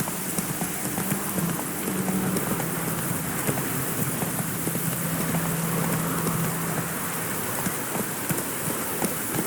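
Horse hooves trotting in The Witcher 3 on a rainy road, a steady clip-clop half buried under a constant hiss of falling rain.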